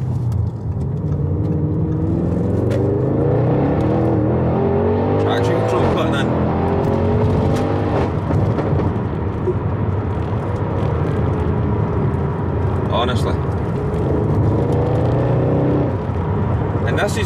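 An Audi RS6 Performance with the Dynamic package and steel sport suspension runs on only four cylinders along a narrow back road, giving a steady, loud engine drone and road roar. A voice talks over it throughout.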